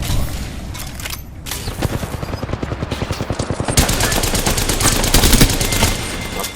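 Continuous automatic gunfire in the video game Apex Legends gives rapid, evenly spaced shots that grow denser and louder toward the end, with booms mixed in.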